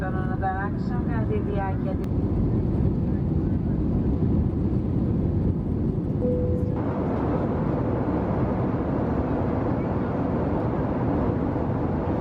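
A steady, broad roar of an Aegean Airlines airliner cabin fills the space while flying over Munich, with a brief voice near the start over the constant engine and air noise.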